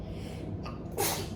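A single sharp sneeze bursts out near the end after a brief inhaled gasp, close and loud, in a family kitchen setting with no talk.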